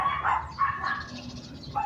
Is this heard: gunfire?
no